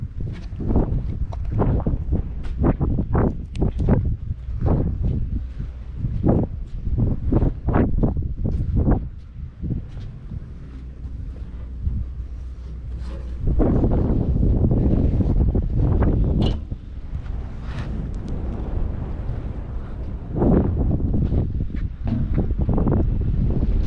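Wind gusting across the deck of a cargo ship on a voyage to the Ivory Coast, a steady close rumble and buffeting on the microphone with irregular thumps, loud throughout.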